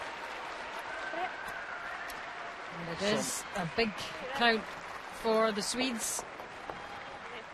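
Curling arena crowd applauding a great shot in a European Championships women's final, bursts of clapping rising and fading under a commentator's voice.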